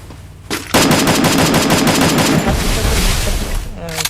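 Rapid automatic gunfire in a first-person shooter video game, loud dense bursts rattling continuously for a few seconds after a brief quieter lead-in, with no talk over it.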